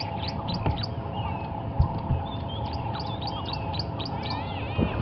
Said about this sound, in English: we are listening to the call of various birds here, we've got a tawny flanked prinia